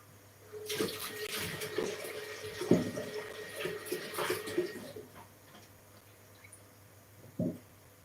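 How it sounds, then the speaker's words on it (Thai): Eggplant being rinsed under a running tap in a kitchen sink, water splashing and spattering in uneven bursts with a few knocks against the basin, ending with one short splash near the close. "เดี๋ยวขออนุญาตล้างมะเขือแป๊บนึง"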